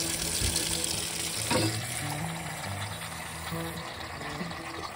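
Running tap water flows steadily in a sink while its temperature is adjusted for an egg incubator, a continuous close hiss with a brief clunk of handling partway through.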